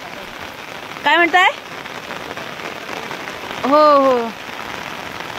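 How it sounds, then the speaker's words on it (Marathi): Heavy monsoon rain drums steadily on a pineapple farm planted with pumpkins and cucumbers, a dense, even patter close around. A voice cuts through twice in short bursts. "खूप पाऊस पडतो आमच्या इथे आता।"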